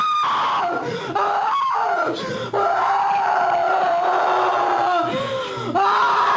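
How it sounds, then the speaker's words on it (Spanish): A person lets out a tremendous, very loud scream as a possession ends, sustained and wavering in pitch and breaking off into several long cries, close and intense, with other voices mixed in. "se produce un grito tremendo, fortísimo, estentórea"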